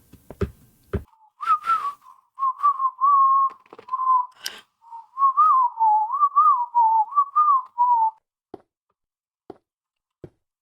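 A person whistles a wavering, melodic tune in several phrases over about six seconds, near and clear, with a few sharp knocks before and a scattering of faint clicks afterward while playing Minecraft.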